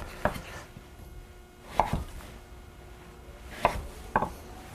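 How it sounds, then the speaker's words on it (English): A knife chops butternut squash into 1-inch chunks on a board, four crisp separate thuds, the last two close together, with quiet pauses between and no voices. "I want to chop it into 1-inch chunks."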